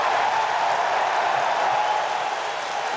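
A football stadium crowd on opening day at a 2002 Jets versus Bills game roars in a continuous loud wash of cheering and clapping, steady and dense for the whole stretch.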